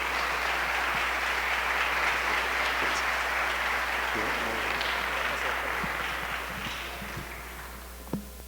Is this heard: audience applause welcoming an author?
yes